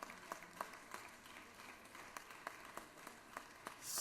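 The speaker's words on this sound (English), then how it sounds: "let's give Lester a big round of applause" Sparse, faint clapping in a Senate chamber for a former senator, with a handful of distinct claps spaced unevenly over a quiet room rather than a full ovation.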